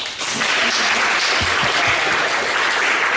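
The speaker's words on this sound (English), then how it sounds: "You can clap. Go ahead." An audience bursts into sustained, dense applause at the end of a talk, loud and continuous for several seconds, with no speech over the clapping.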